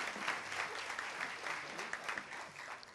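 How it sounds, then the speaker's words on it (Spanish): An audience at the inauguration of new government offices applauds a welcomed official, a quiet, steady patter of many hands clapping at some distance, with a faint voice among it. "La recibimos también con un fuerte aplauso."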